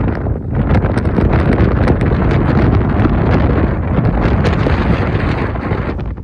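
Strong autumn wind on a Dartmoor tor buffets the microphone with a loud, continuous rumbling roar and gusty crackling, close and harsh throughout.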